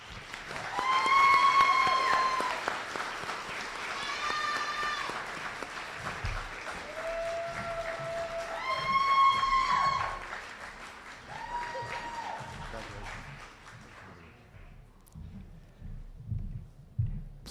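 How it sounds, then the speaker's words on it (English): Sustained applause from a graduation audience honoring award winners rolls on at a steady level, with whoops and cheers rising over the clapping before it tapers off near the end. "Please give a round of applause for our Foundations Award winners"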